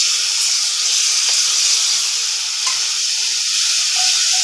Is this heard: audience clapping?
no